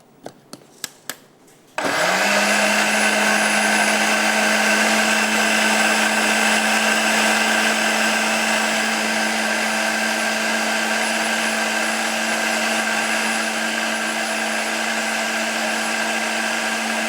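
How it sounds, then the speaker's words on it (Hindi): Rose petals grinding in an electric blender for rose sharbat: a few short taps, then the motor kicks in and roars loud, close and steady for the remaining fifteen seconds. "इसको थोड़ा सा और ग्राइंड करेंगे। बिल्कुल जो पत्तियां इसकी गायब हो जानी चाहिए।"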